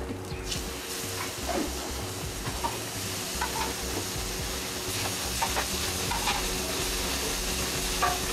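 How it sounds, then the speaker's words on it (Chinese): Sauce-coated fresh stingray sizzles as it pan-fries, a constant soft hiss of hot oil broken by scattered scrapes and clicks of stirring and turning. "下锅煎"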